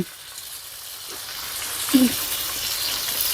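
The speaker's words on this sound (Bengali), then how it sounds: "আমাদের কিন্তু মাছটা কিন্তু ভাজা হয়ে গেছে" Fish fries in a multifunction robot cooker with a steady, close sizzle and crackle, plus a brief louder pop or scrape near the middle, with no one speaking.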